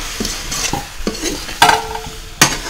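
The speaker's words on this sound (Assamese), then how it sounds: "অকণমান কোমোৰা পানীটো দি এতিয়া অকণমান ভাজা যাব" Pumpkin and duck meat sizzle and fry in a pan while a spatula stirs and scrapes, with a few sharp clinks against the metal.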